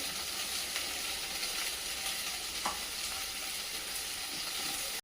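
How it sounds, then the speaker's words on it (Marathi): Cluster beans with mustard seeds fry in oil in a pan, making a faint, steady sizzle and hiss with a few small crackles and no voices. "आपण प्रथम गवाराच्या शेंगा छानपैकी परतून घेणार आहोत प्रथम आपण मोहरी टाकून घेऊया"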